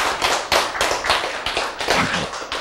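A church congregation claps together, a dense burst of overlapping, rhythmic hand claps that stays loud and close throughout.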